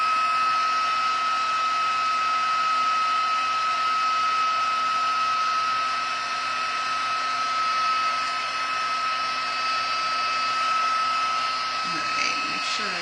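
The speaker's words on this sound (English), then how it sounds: "I still just emboss it with black embossing powder" A heat tool melts black embossing powder for a faux stained glass craft, blowing a steady, loud, whirring hum close by for the whole stretch.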